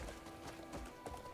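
Horse hooves clip-clop at a steady walking rhythm in a video game, faint and somewhat distant against a soft game-sound backdrop, with no talking.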